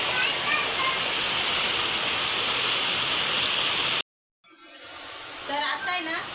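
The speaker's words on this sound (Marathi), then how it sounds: "आता अंधारामुळे एवढं ते काय पाऊस दिसून राहिलं ते करतं, पण हे पाणी जे पडून राहिलं त्याच्यावरून तुम्ही अंदाज लावू शकता" Heavy night rain falls on a village house whose roof is leaking, giving a steady dense hiss for a few seconds. The sound then cuts off abruptly and a voice is heard faintly afterward.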